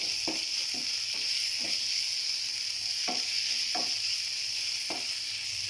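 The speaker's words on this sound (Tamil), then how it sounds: "தக்காளி நல்லா வதக்கிக்குவோம் நல்லா வதங்கட்டும்" Tomato paste frying in a pan with a steady, bright sizzle that holds throughout, broken by a few soft scraping stirs of a spoon; no voices.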